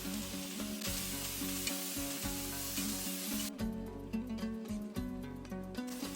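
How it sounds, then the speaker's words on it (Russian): Meat sizzles and fries loudly in hot vegetable oil in a cauldron over high heat, a steady crackling hiss with occasional stirring scrapes, close up and continuous. "Наливаем в казан примерно 50 мл растительного масла и хорошо на сильном огне обжариваем мясо"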